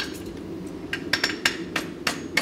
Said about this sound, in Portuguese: Um macetinho que a gente usa